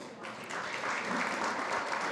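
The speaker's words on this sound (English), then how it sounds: "Another round of applause." Audience clapping at an SXSW food summit panel, a short round of even applause that swells slightly after the start, moderately distant.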